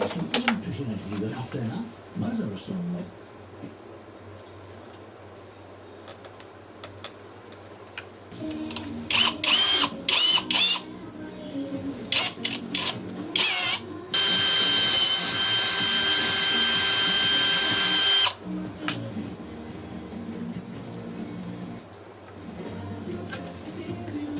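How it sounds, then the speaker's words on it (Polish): A power drill bores a 5 mm hole to mount a reversing camera on a 2016 Ford Mondeo MK5, short whirring bursts then a long steady high-pitched drilling run, with someone talking between bursts. "Wiertłem 5 mm, wiercimy tu dziurę"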